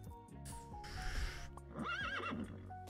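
A horse in a video game whinnies, a clear rising and falling neigh with a few hoof clops beneath it over a low game backdrop, no speech.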